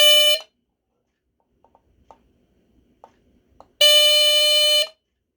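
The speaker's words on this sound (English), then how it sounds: "that is the Earli-Gard EGD-4B smoke detector" A Square-D Earli-Gard EGD-4B smoke detector sounds its loud, piercing tonal alarm in two bursts, a short one then a longer one of about a second. Faint clicks fall in the near silence between them.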